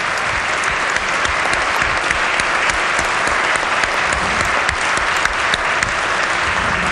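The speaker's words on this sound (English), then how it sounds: "I also have a clap for these guys." Steady, dense applause fills a legislative chamber for guests in the gallery, loud and even throughout with many hands clapping at once and no break.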